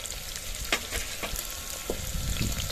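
Chopped onion fries in hot oil in a pan for paneer biryani, a close, steady crackling sizzle with scattered pops and a few scrape-like stirring sounds, no voices.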